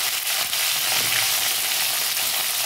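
Pointed gourd and green chilies fry together in hot oil, giving a steady, close, even sizzle with no voices over it.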